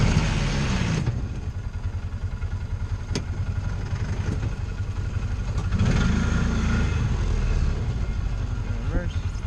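A Polaris Ranger side-by-side 4x4 engine runs steadily after a gear change, a loud, close, continuous low rumble with a brief rise in revs midway, while people talk over it.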